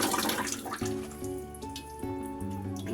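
Running tap water splashes steadily as a grimy water filter housing is rinsed out in a sink, a continuous close wash with a faint humming tone underneath.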